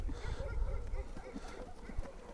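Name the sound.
horse hooves clip-clopping while walking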